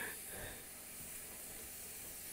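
Water hissing and sizzling on a hot wood-burning stove in an Alaska home, a soft, steady steam hiss, faint and continuous with no pauses.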